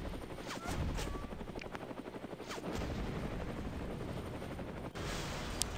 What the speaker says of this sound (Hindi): helicopter blast